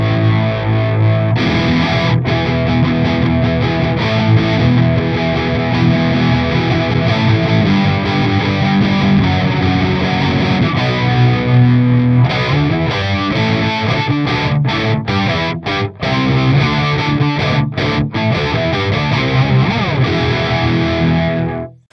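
Electric guitar chords played through a Boss MO-2 Multi-Overtone pedal with added distortion, a loud, thick, continuous wash of shimmering overdriven tone with layered overtones, strummed chord changes and brief choppy stops near the end, with no voices.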